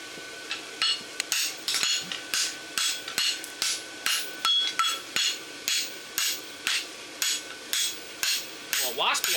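Hand hammer striking a steel bar horseshoe on an anvil during forging of a lateral extension barshoe, a steady rhythm of sharp ringing blows, about two per second, close and loud.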